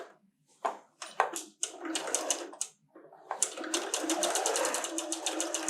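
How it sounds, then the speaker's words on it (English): A sewing machine runs a straight seam across a quilted table runner in short bursts that give way to a longer, steady run of rapid needle strokes, close and loud with no voices. "So now I'm going to go ahead and just seam a straight stitch all the way across."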